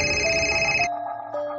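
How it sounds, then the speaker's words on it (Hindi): An electronic telephone ring sounds as an effect in a Hindi radio horror story, a loud steady tone that cuts off abruptly partway through and gives way to a quieter fainter tone. "सीधा अपनी बिल्डिंग से बाहर निकलकर परेशानी वाली हालत में अपने दोस्त ऋषि को फोन करने लगा।"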